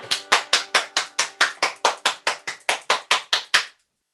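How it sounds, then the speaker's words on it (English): Hands clap steadily, about sixteen sharp claps in an even rhythm, close and clear, then stop. "just give yourselves a big clap"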